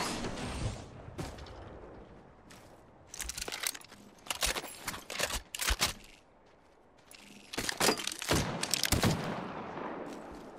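Gunfire in the battle royale video game Apex Legends, several clusters of sharp, rapid shots in bursts separated by quieter gaps, fairly faint overall.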